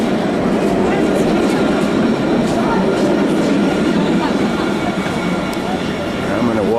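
A light rail train rumbles past loudly at close range on Jaffa Street in Jerusalem, a continuous rolling roar with faint rail clatter and squeal, sustained throughout.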